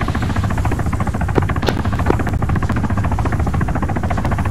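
A military helicopter hovers in an ARMA video game, a loud, steady, rapid rotor thump with engine whine filling the whole stretch, no talking over it.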